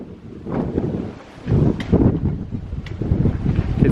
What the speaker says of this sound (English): You can see how strong the wind's blowing.